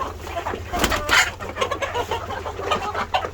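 Chickens cluck close by in a busy farmyard, short clucks repeating over low background noise and occasional voices.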